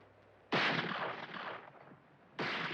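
Gunfire in the western film Winchester '73, two loud, close blasts about two seconds apart, each followed by a short rough decay.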